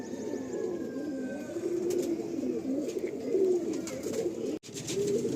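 Madrasi breeder pigeons coo continuously in a loft, a steady low warbling chorus close by, with brief clicks and a short dropout near the end and no talk.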